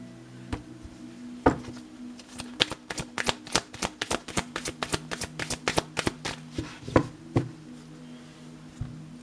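A deck of Oracle de la Lune cards is shuffled and cut by hand: a dense, rapid run of close crisp card slaps and riffles, framed by a few sharper taps at the start and end.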